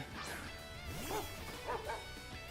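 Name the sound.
Dachsbun Pokémon cry from video game Pokémon Scarlet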